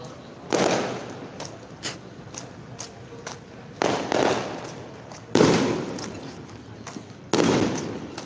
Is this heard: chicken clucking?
no